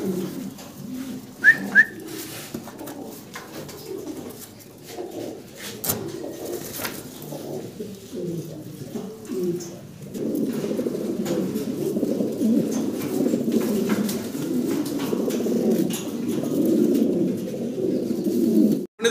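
Two male pigeons from the same loft coo back and forth in low, rolling, throaty calls that swell into a dense continuous burble, close and fairly loud, with a couple of brief higher whistles early on.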